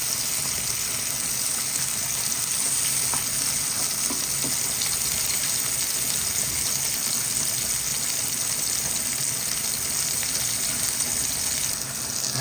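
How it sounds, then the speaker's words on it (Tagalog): Hotdogs fry in a pan for Filipino-style spaghetti, giving a steady, loud, close-up sizzle of hot oil that stays even throughout, with no voices. "piniprito ko muna ang ating hotdog"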